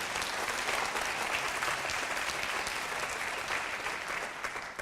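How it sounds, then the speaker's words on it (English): A crowd applauds steadily throughout, a dense, even wash of many hands clapping at a moderate distance, with no voices over it. "Yeah, you can clap for that."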